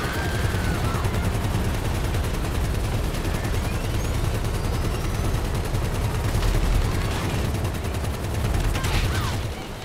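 Sustained gunfire in Grand Theft Auto V, a dense barrage of rapid automatic shots that runs on continuously, loud and close, with a few heavier bangs near the end.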